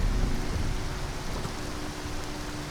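Heavy rain pours steadily in the video game Skyrim, a dense, even hiss of downpour that fades slightly toward the end, with a faint low tone humming beneath it.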